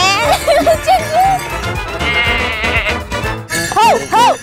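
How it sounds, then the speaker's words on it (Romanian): A sheep bleats in a few wavering calls at a village farm, heard over lively background music, loud and fairly close. "Oh, ăla-i oaie?"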